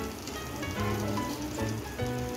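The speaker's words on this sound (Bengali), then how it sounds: "এভাবে আমি সবগুলো ভেজে নিচ্ছি" Papdi for dahi papdi chaat fries in hot oil with a continuous, close crackling sizzle that swells slightly in a few spots, with no talking.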